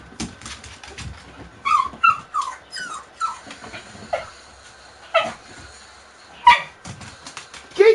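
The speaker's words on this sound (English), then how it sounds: "Fucking dog." A dog gives several short, sharp barks and yelps with gaps between them. The sounds are close, over scuffling and handling noises, and there is no clear talk.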